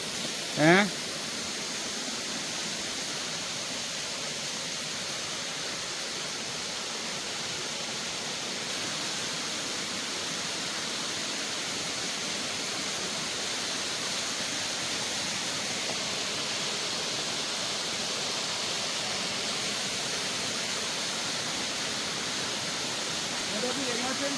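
Waterfall at Amarad hill, seen late in the rainy season with little water, produces a steady broadband rushing roar that holds evenly throughout, nearby and without talk.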